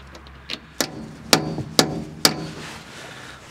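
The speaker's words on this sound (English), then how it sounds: "Was able to hammer on a smaller size socket." Sharp hammer blows drive a smaller socket onto a part of a Ford backhoe, about five metallic strikes in an uneven rhythm with short ringing decays and quiet gaps between.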